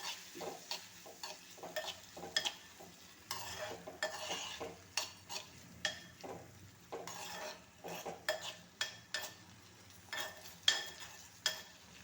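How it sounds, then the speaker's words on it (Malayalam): Spatula stirring medium-sized tomatoes as they sauté in a pan for an egg and tomato curry, with repeated scraping and clinking strokes over a soft sizzle, close and steady with no talking. "നല്ലതുപോലെ ഒന്ന് വഴറ്റിയെടുക്കാം."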